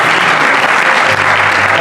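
An audience applauding loudly at a church gathering, a dense, steady wash of clapping heard up close with no pauses.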